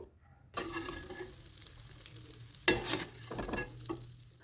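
Green chillies and chopped garlic dropped into hot oil in a pan left from frying egg for masala Maggi, a sudden sizzle after a quiet start that keeps crackling, with a few stirring scrapes, no talk.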